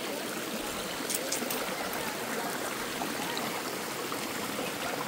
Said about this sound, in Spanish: miren cómo está el río ya bien pachito